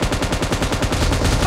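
Rapid automatic gunfire in PUBG Mobile team deathmatch, a loud close burst of evenly spaced shots firing continuously for the whole moment.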